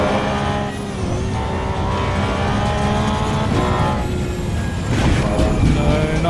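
A Porsche 911 GT3 engine at full throttle in Assetto Corsa EVO on the Nordschleife, a loud, sustained, high-revving wail that climbs steadily in pitch, with a brief dip before it surges again near the end.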